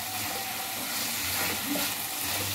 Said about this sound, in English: And then from there I give it to simmer like uh, for 5 to 10 minutes